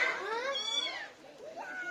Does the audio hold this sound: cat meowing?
yes